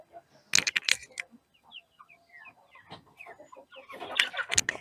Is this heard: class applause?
no